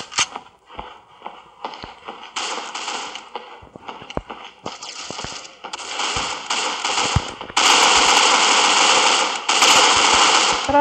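Gunfire from an AK-47 in the mobile shooter Critical Ops: scattered single shots and short bursts build into long, loud, sustained automatic fire, with no talking.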